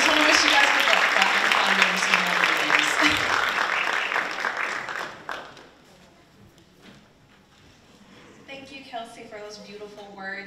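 Audience applause at a university scholarship pageant competition, loud and dense for about five seconds before fading away, followed by a quiet stretch and then a voice starting to speak.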